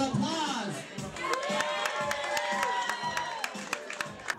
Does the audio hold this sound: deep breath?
no